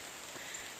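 Steady rain falling outdoors, a dense, even hiss with no break across the short stretch, moderately loud and alone without voices.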